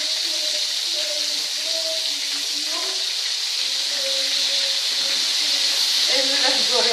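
Stuffed sardines frying in a pan as they are flipped, with a steady broad hiss and sizzle of hot oil running throughout, close and fairly loud.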